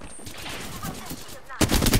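Rapid automatic fire from the Havoc rifle in a battle royale shooter crackles in a sustained burst, then a louder, denser volley erupts near the end, close and harsh.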